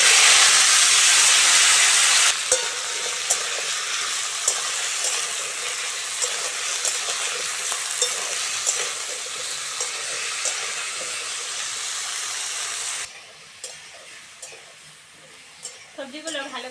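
Vegetables fry in a pan with a strong, steady hiss and sizzle that stays loud and close, then drops abruptly to a quieter simmer with light stirring near the end.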